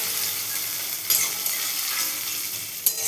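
Onions frying in a pan until lightly reddened, a steady close sizzle throughout with a couple of brief clinks of stirring, no voices.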